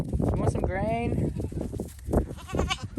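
Goats bleat at feeding time on a snowy winter farm, a loud wavering bleat near the start and another later, mixed with a person talking and rustling movement nearby.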